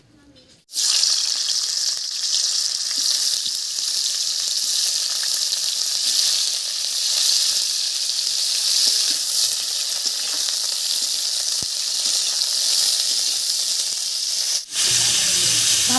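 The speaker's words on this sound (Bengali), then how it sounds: "এবার কড়াইতে আবারও একটু সর্ষের তেল দেব এই তেলের মধ্যে এবার ফুলকপিটা ভেজে নেব" Cauliflower dropped into hot mustard oil in a wok, a loud continuous hiss and sizzle that starts abruptly and holds steady and close, with a brief break near the end and no talk.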